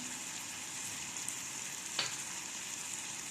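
Spices such as dhania powder, red chili powder and garam masala frying in oil for Bengali-style gobi palak, a steady soft sizzle with light stirring and a brief scrape partway through.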